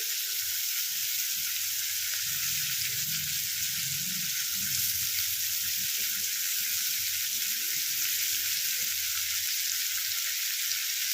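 Sliced raw onion frying in melted fish oil in a pan, a steady loud sizzle throughout with faint stirring scrapes underneath.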